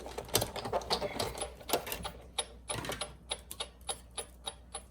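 Paper being cut for stamp crafting, with a quiet run of crisp snips and clicks that grows sparser and more evenly spaced toward the end, heard alone with no talking.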